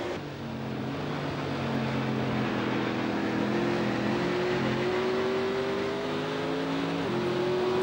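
Stock car engine roar in the NASCAR 09 racing game, a sustained droning whine with pitch slowly rising and shifting as the car accelerates, loud and steady with no voices.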